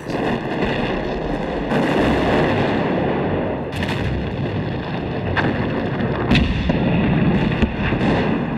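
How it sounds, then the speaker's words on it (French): Heavy German artillery fire at the Battle of Verdun rumbles continuously, with booming blasts and sharp cracks punctuating a dense, roaring barrage. "Les canons du Kronprinz déchaînent un ouragan sur les lignes françaises."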